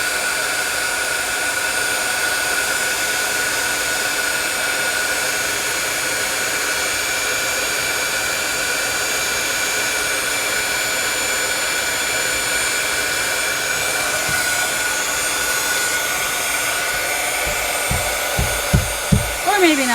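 A hair dryer blows steadily on inked journal pages, a loud continuous broadband whoosh lasting throughout, with a few soft knocks near the end.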